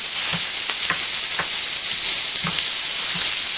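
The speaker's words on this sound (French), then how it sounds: "pour émietter notre mélange de chair à saucisse et de viande hachée" Sausage meat and minced beef sizzle steadily in a pan for lasagne, with a spatula breaking up the mixture in soft periodic scrapes and taps over the constant close, loud frying hiss.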